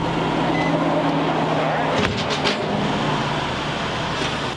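A flood-damaged car with 67,000 miles starts up and keeps running. The engine is a steady, close drone with a brief burst of noise midway, and voices can be heard over it.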